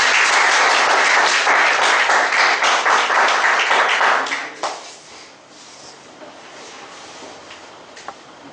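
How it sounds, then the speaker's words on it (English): An audience applauds to welcome a speaker, dense clapping for about four seconds that then fades to quiet room tone with a single late tap. "Let us welcome Mr. Dhruv with a big round of applause."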